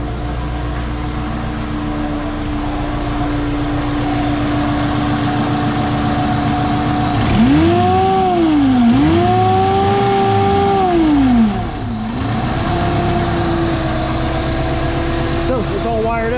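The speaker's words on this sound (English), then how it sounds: "Supercharger on, supercharger off." A Honda Civic wagon engine with an M62 supercharger, idling steadily and then revving up and down in two sweeping rises as the supercharger whine engages, loud and near, with someone talking over it.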